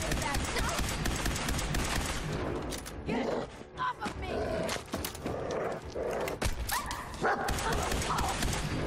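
A dog barks repeatedly in Fallout 4, mixed with dense game noise, rapid gunfire-like bursts and voices talking throughout.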